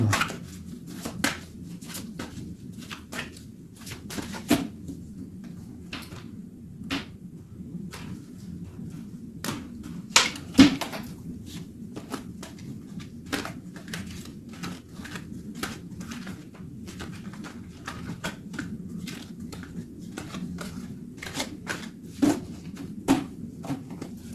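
A deck of tarot cards shuffled and cut by hand, giving a long run of soft, scattered card flicks and slaps over a low steady background hum, close and fairly quiet.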